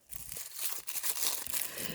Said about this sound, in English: I'm moving the plastic bag away